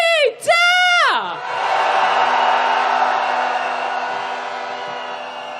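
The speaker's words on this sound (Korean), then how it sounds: "한 번 더 함성 지르겠습니다" Protesters on a rainy impeachment march shout together: after a brief amplified rising cry, a massive crowd roar swells and holds steadily, loud and dense, slowly fading toward the end.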